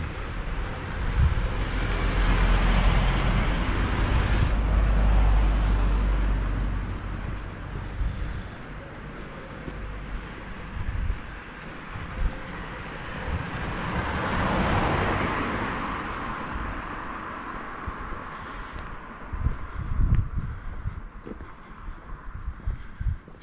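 Cars pass along a road in Illetas, a broad rushing roar that swells near the start and again midway, then fades into a lower steady rumble with scattered thumps.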